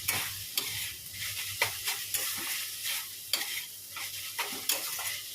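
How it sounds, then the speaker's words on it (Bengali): Kalmi greens (water spinach) fry in a pan with a garlic tempering, giving a continuous close sizzle broken by repeated scraping stirs of a spatula against the pan. "রসুন ফোড়ন দিয়ে শাকটা ভাজছি"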